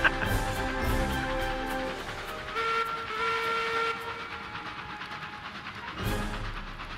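A train rolls along in the video game Railroads Online, with continuous rumbling clatter and brief steady whistle tones layered over it, fairly close and without talk.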